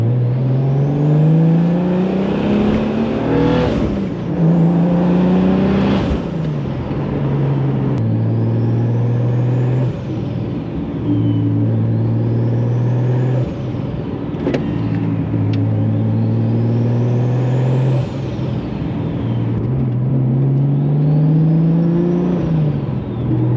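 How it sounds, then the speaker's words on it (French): BMW E36 with a turbo engine and a twin-disc clutch running while warming up, a loud close steady drone with repeated rises in pitch as the revs climb and fall over and over, no talking. "Maintenant ce qu'on va faire c'est qu'on va bien faire chauffer la voiture."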